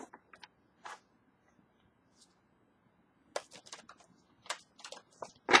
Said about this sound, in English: That's why I have to shuffle them like this.